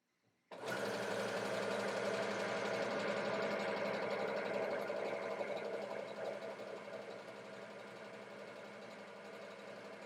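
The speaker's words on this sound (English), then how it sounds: "you simply just press your foot pedal and your machine will sew the buttonhole." A sewing machine starts abruptly and runs steadily while stitching a buttonhole, a close, continuous rapid mechanical whir that eases slightly toward the end, with no talking.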